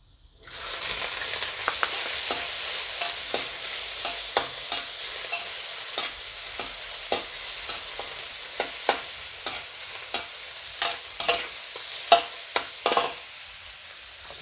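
Pork sizzles in a hot pan for a sweet and sour pork and shrimp stir-fry: a loud, steady frying hiss starts abruptly and runs throughout, broken by sharp clicks and scrapes of stirring.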